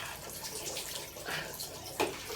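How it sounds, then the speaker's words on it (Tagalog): Water runs from a household tap into a basin, a soft, uneven splashing stream at moderate distance with a brief louder gush near the end. "Umiinit na yung tubig sa gripo."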